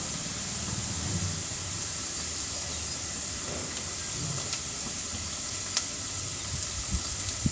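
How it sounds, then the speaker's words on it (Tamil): Sliced onions sautéing in hot oil in a pan for a home-cooked lunch, a steady close sizzle and hiss with faint stirring scrapes and occasional light ticks. "வெங்காயம் நல்லா வதங்கிட்டுருக்கு"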